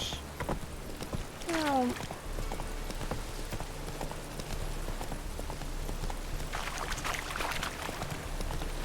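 Roach the horse trots at night in Witcher 3, a steady clip-clop of hooves running underneath throughout, with a brief voice exclamation early and a louder rush of hoofbeats near the end.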